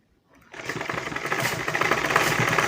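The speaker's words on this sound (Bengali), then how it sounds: "দেখেন আমরা এটা এখানে সেলাই করে নিচ্ছি আর একটু উপর দিকে" A sewing machine starts up after a brief silence and runs in a steady, fast mechanical whir while stitching a blouse strap, close and moderately loud with no talk over it.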